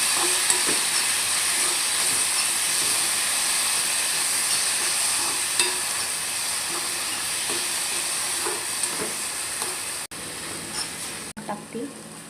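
Red ambadi pod thecha is added to garlic already fried in hot oil in a pan. A constant, close sizzling hiss runs throughout, with a couple of brief dropouts near the end.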